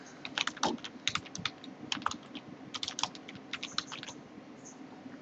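Computer keyboard typing as a project name is entered: quick clusters of light, clicky keystrokes with brief pauses, close and clear, with no talking.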